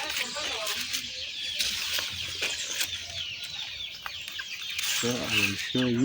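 Chicks on an African village farm cheep and peep close by in short, repeated high calls, loudest toward the end, against a busy outdoor background.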